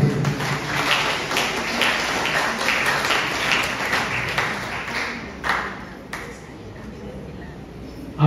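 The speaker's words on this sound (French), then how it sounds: "fois de plus, on les applaudit." Audience applause at a sacred concert in the chapel of the Missionary Sisters of Christ the King: dense, steady clapping fills a reverberant room for several seconds, thinning toward the end with a few scattered claps.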